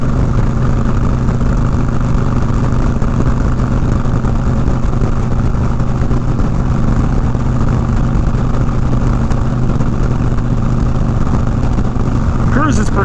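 A motorcycle engine drones steadily while cruising at 80, turning about 3,000 RPM, its constant loud hum and road rush continuous throughout with no breaks, rising slightly at the very end.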